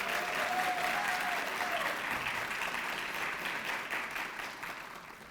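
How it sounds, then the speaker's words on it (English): A crowd at a master's hooding ceremony claps steadily in sustained applause that gradually fades, with a faint whistle near the start. "a round of applause"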